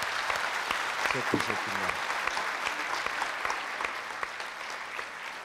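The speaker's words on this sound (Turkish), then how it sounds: "Hatta bir alkışla onları selamlayalım isterseniz." Studio audience at a Turkish Popstar talent show applauding, dense rapid clapping that fills the clip and slowly tapers off, with a host's brief voice heard over it.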